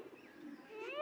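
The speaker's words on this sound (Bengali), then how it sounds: "তাহলে এখানে অনেক সুন্দর কবুতর দেখা যাচ্ছে" A brief, soft pigeon coo rises and falls at a zoo, with faint chirping above it and no voices.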